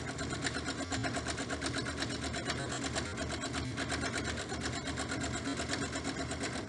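A sewing machine stitches a fabric face mask with ties, running a steady, fast mechanical whir and rapid needle clatter, close and continuous without pause.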